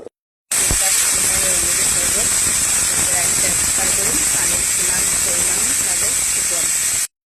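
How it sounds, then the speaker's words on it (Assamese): Steam hisses steadily and loudly from a pressure cooker cooking mutton curry, a continuous close rush lasting several seconds with faint clatter beneath it. "এয়া কুকাৰত ট্ৰেন্সফাৰ কৰিলোঁ, এতিয়া 3টা চিটি মৰাই ল'ম।"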